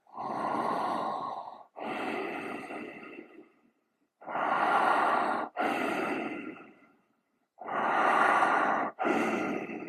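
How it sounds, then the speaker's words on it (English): Slow, deep breaths during a guided breathing exercise, three paired cycles of long inhale and exhale, each a broad airy rush lasting a few seconds, close and fairly loud with short pauses between pairs and no talking. "Out breath, expand. In breath, expand."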